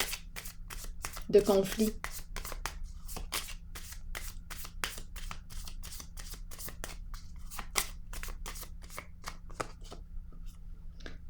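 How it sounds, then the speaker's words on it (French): Playing cards are shuffled in a quick rustling burst and then drawn, while a person talks softly over the top throughout. "Je vais piger une carte pour cette zone"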